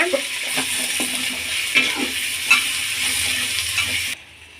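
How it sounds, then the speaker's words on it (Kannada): Onion and ginger fry in a hot pan, a continuous crackling sizzle punctuated by clinking stirs from a spoon against the metal, before the sound cuts off abruptly. "ಈಗ ಈರುಳ್ಳಿ ಸೇರಿಸ್ಕೊಳ್ಳೋಣ. ಶುಂಠಿ ಒಂದ್ಸಲ ಫ್ರೈ ಮಾಡ್ಕೊಳ್ಳೋಣ."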